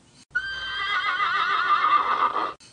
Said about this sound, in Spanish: Mientras el ruido de los cascos se acerca cada vez más.